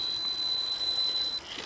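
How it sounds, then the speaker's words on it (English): The electronic speed controller of a 1/10-scale electric 4x4 trail truck gives off a thin, steady high-pitched whine under held throttle, then cuts out near the end among faint mechanical shuffling. "That's why the ESC is whining."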